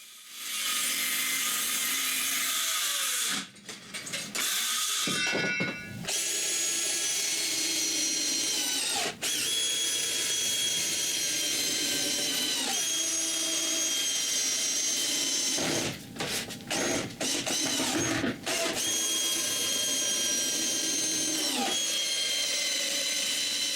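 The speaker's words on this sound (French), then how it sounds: "je coupe l'avant en angle et je visse le tout ensemble" Wood being angle-cut and screwed together with 4-inch screws for a snowmobile trail groomer, heard as long stretches of loud, continuous power-tool whine and cutting, broken by several short pauses.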